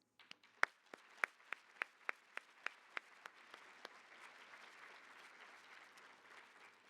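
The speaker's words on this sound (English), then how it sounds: "Please join me in a round of applause for these outstanding leaders." A small audience at a fall welcome address claps in a sparse, faint burst of distinct individual claps that quickly dwindles into quiet room tone.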